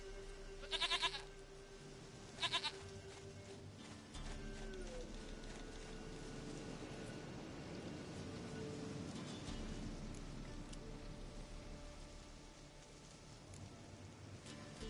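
Two short goat bleats from The Witcher sound near the start, then give way to a steady rain-like wash and low rumble in the game's outdoor ambience.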